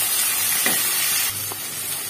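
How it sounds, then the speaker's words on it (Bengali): Onion fries in oil with a pinch of salt and turmeric, giving a close, continuous sizzle and hiss with a couple of brief stirring scrapes. "পেঁয়াজটা অনেকটা ভাজা হয়ে গেছে।"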